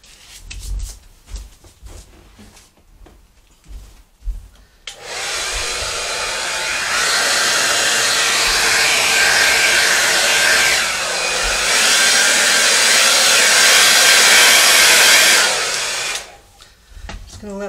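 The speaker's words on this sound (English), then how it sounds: "it's going to get a little bit noisy because I'm going to grab my blow dryer" A hair dryer switches on with a loud, steady whoosh that runs for about ten seconds, shifting slightly in pitch before cutting off, blowing out acrylic pour paint; quieter handling sounds before and after.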